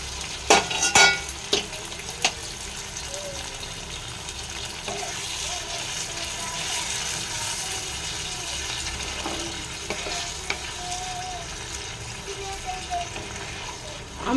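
Hot water poured into a pan of sizzling cluster bean sabji sets off a steady, broad hiss and bubbling that holds for many seconds after a few clattering knocks at the start, close up and without speech.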